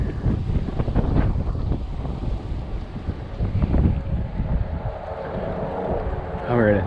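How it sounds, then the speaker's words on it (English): Strong wind buffets the microphone during a November walk at Oakwoods Nature Preserve, a loud steady low rumble throughout with a voice talking over it. "I won't go down because it's just windy as heck."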